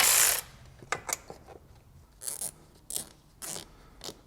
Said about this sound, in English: Lastly, the slave cylinder, which we can simply unbolt and put on the side.